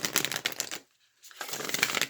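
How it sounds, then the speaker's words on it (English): Tarot cards are riffled and shuffled in two quick papery bursts separated by a brief pause, close and fairly quiet. "It's making it a little bit more difficult to shuffle."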